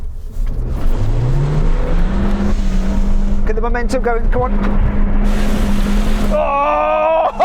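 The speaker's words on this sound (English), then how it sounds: "I just revved the nuts off it and it hauled its ass up" A Suzuki Jimny engine revs hard and steadily throughout while climbing uphill off-road, loud and close, while someone talks over it and other voices call out near the end.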